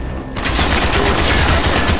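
Rapid automatic gunfire in Call of Duty: Black Ops, a dense, loud burst of repeated shots starting abruptly after a brief lull and continuing without pause.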